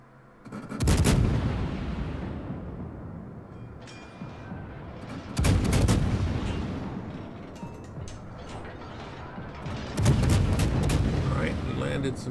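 Naval artillery salvos from warships in World of Warships, including a Soviet tier-10 Smolensk premium cruiser: three loud booming volleys spaced several seconds apart, each followed by rumbling decay under continuous battle ambience.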